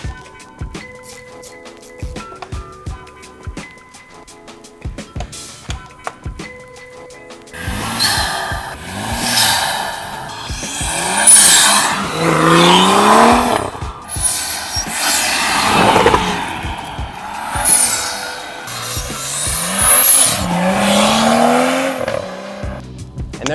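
A BMW N55 engine with a silicone front mount intake gives loud, throaty induction whooshes and rising revs in repeated bursts after a quieter stretch of idle and clicks.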